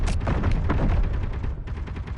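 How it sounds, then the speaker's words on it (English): An autocannon fires in an underground survival video game, a rapid string of heavy thumping shots close by and loud, briefly pausing before resuming, with no talk. "That's the thump of an auto cannon."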